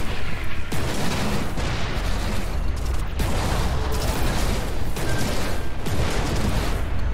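In the space game Everspace 2, a bomber's cannon fires repeated heavy booming shots over a constant roaring drone, with several bursts following each other across the stretch.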